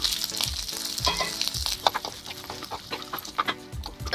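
Fresh green peas tipped into a hot pan sizzle and crackle loudly, with scraping stir strokes that repeat roughly every half second.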